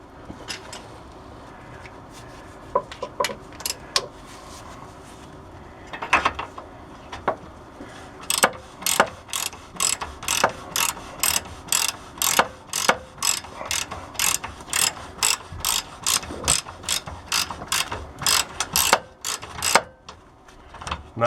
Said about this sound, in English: we brought a ratchet too